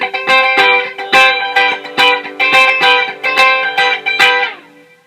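Funk lead guitar riff played on a second chord shape, a run of quick rhythmic chord stabs and picked notes in a steady groove with bright sustained tones, close and loud with no one talking.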